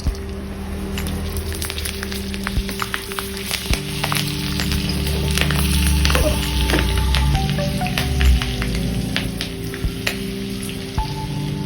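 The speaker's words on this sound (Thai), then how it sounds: "เป็นการทอดพริกขี้หนูนะครับทอดพริกขี้หนูไว้" Bird's eye chilies fry in hot oil for a seafood basil stir-fry, giving a steady, close, continuous crackling sizzle with scattered sharp pops and a low hum underneath, no talking.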